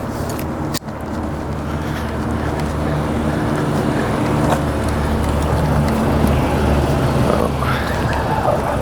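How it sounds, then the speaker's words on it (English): A Tesla car arriving, heard as a steady, broad rumble of road and wind noise that holds at an even level throughout, with one short knock near the start. "I believe this Tesla is arriving."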